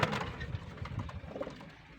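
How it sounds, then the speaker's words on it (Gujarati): Soft, low cooing from Madrasi pigeons in a loft, a steady murmur of several birds close by, no talk. "આ છે જો ગાઈસ મદ્રાસી કબૂતરા"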